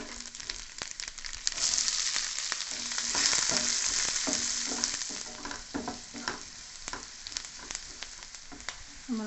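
Onions sizzling in a pan with toasted coconut pieces and spices for a creamy prawn masala, a steady close frying hiss with scattered crackles and stirring scrapes, no voices.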